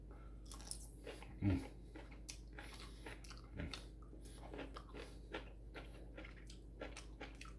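Someone bites and chews string beans stir-fried with bacon, soy sauce, sesame oil, oyster sauce and white pepper, giving soft close crunches in a quiet room with one louder bite early on.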